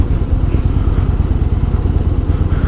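A 2018 Yamaha Star Eluder, a heavy touring cruiser motorcycle, rumbles steadily while being ridden, with a loud, continuous low engine drone and wind noise and no voices.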